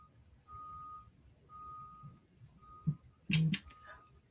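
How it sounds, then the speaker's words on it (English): A school bus pulls up outside, its reversing beeper sounding in evenly spaced tones under light talk, followed by a hiss and thump as it stops nearby. "Shorty's bus is here."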